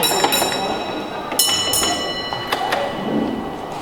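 Model trains roll along the track of a signalling-school layout with a steady rumble, light metallic clicks and squeals, and a few sharp knocks as they cross joints and a crossover.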